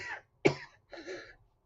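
Two sharp coughs from a man with a bad cold, close to the mic, a brief quiet gap between them, with no talking.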